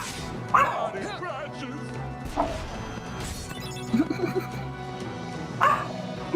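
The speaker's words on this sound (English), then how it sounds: "Man, what are you barking at?" A dog barks in the video game Kingdom Hearts Re:Chain of Memories, sharp yips and bow-wows mixed with crashing battle effects, while a voice talks over the action.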